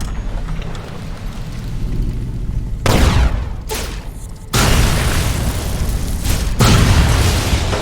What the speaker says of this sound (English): Let all those rats explode.